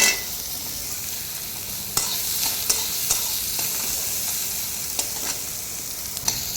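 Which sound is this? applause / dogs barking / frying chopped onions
frying chopped onions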